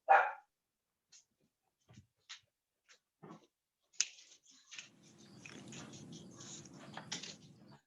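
Two young puppies give a scatter of short barks and yips in a quiet room, distant and sporadic at first, followed by a stretch of steadier, faint background noise.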